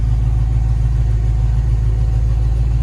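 A 1969 Chevrolet Camaro SS350 with its engine running at idle, a close, loud and steady low rumble with no talk over it.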